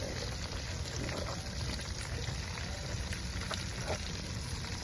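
Tomatoes sauté in a pan over a camp stove outdoors, giving a steady, soft sizzle and bubbling that carries on evenly at a low, close level.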